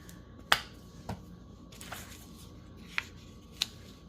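Scissors trim excess wallpaper while making craft tags, giving a few sharp, isolated snips spaced unevenly over a quiet background, with no talking.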